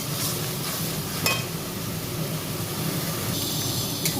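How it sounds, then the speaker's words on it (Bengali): Spice paste being stirred and fried for koi fish curry, a steady close scraping and low sizzle running throughout, with a sharper clatter of the spoon around the middle and again near the end. "ভালো করে মশলাটা কষিয়ে নিতে হবে। দেখবেন কষতে কষতেই বেশ তেলটা বেরিয়ে আসে।"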